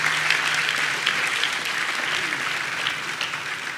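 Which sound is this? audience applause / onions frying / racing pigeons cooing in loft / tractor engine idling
audience applause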